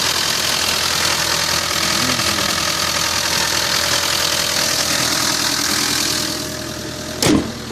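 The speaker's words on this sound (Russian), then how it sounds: "Стучат у нас гидрокомпенсаторы. И работает она как трактор." A car engine idles with knocking hydraulic valve lifters, a fast steady ticking clatter over a rough, tractor-like rumble, close and continuous, with a short bump of noise near the end.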